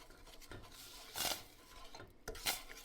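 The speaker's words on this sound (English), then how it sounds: "I'm going to mix all this up" Onion powder and garlic salt are stirred into a seasoning mix, soft close scrapes and a few sharper clinks of a utensil against a pan, with a faint sizzle in the background.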